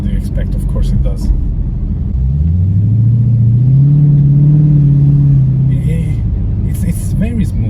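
A Dodge Challenger's engine revs up hard and holds a rising, droning pitch for several seconds before easing off, loud and close, with a steady rumble throughout.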